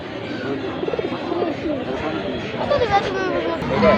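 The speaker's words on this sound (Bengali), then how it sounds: "ভাই দেখি অনেকগুলো কবুতর আছে" Pigeons coo at a weekly pigeon market, a low burbling chorus mixed with bird chatter under steady crowd babble and nearby talking.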